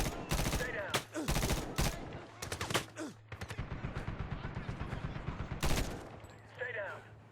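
Rapid machine-gun bursts and scattered gunfire in a military shooter video game, loud and sustained across the whole stretch with brief pauses, while voices call out over the shooting.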